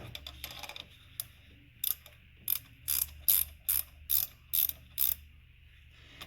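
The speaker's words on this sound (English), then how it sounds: "Get the ratchet." Ratchet wrench clicking while working on a BMW 2006 750i N62 engine during valve stem seal replacement: about ten crisp, evenly spaced ratcheting strokes, close and distinct against a quiet background.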